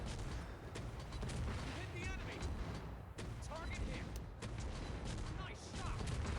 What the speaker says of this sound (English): because you're gonna be shooting the guns a lot.